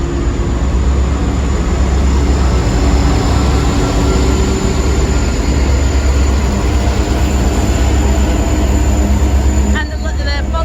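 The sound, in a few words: Indian Pacific train passing, NR class locomotive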